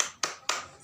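Children in a third-grade classroom doing the spirit clap (tepuk semangat), two sharp, close group claps about a quarter second apart, quick and crisp with no talk.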